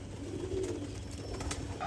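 A red Gorra pigeon coos with a low, soft, drawn-out call, heard close against a steady background hum with a few brief clicks.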